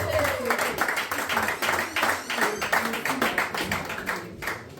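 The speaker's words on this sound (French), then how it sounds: "Applaudissons, s'il vous plaît." Steady applause from a crowd at a wedding reception, dense rapid clapping continuing throughout at moderate loudness, with a voice faintly audible underneath.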